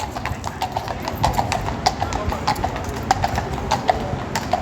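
Police horses of the Metropolitan Police Mounted Branch stand in their central London stables at Great Scotland Yard, their hooves clip-clopping steadily and irregularly on the hard floor, close by, over a busy background hum with faint voices.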